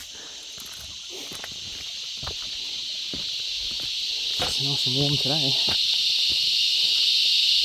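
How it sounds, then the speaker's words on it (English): Loud, constant cicada buzzing fills the air outdoors on a warm day, droning steadily and growing slightly louder throughout, while someone speaks briefly and faint footsteps and rustling sound beneath. "And there's the cicadas."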